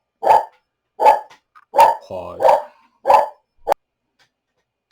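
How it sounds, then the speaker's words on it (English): A dog barks sharply about six times in a steady rhythm, close and loud, with a short low growl between two of the barks and quiet gaps between them. "Dog."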